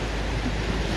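Ocean waves surge and splash up the shore at Puerto Vallarta in a steady, loud wash, with wind rushing across the microphone.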